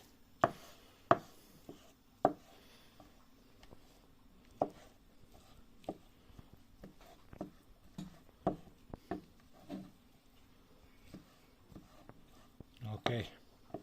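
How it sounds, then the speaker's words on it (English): A knife chops ingredients for a home-cooked Chinese dish into very small pieces on a board. The sharp, quiet knocks come irregularly, some in quick pairs, with soft rustling between them. "So we cut it all into very small parts."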